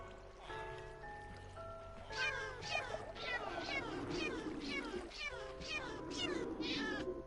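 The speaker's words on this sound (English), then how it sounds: "Lots of cats coming in here." Several cats meow repeatedly in the survival game ARK, a series of rising, wavering calls one after another, fairly close, over a faint trickling background.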